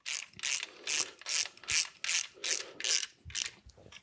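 A ratchet wrench drives the alternator bolt into the cylinder head during a Kwik Performance Sanden mini AC, alternator and power steering install on a 2014-19 LT truck: eight quick, close, evenly spaced clicking bursts, heard alone.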